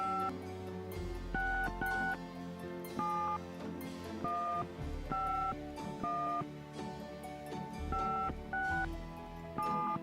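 An international number is dialed on a telephone in a video game, a quick sequence of DTMF keypad tones in uneven bursts over a low background bed, mid-loud and clear, with no voices.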